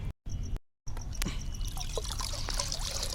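Water trickles and pours into a rose fertilizer mix in a container, a steady soft stream with slight splashing after two brief silent gaps.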